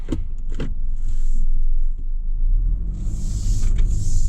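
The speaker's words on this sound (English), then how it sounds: "I'm just about to test drive this beautiful SUV" A 2022 Mitsubishi Outlander SE SUV with automatic transmission starts off on a test drive, its cabin filled with a steady low engine and road rumble that swells and eases, along with brief clicks and a higher whir near the end.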